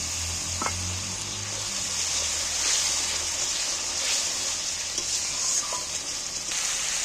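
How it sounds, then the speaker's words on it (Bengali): Potatoes sautéing with spices in a pan for a Bengali steamed egg dish make a steady close sizzle, with a few scraping stirs scattered through. "এবার আলুগুলোকে একটু কষিয়ে নেব মশলা দিয়ে"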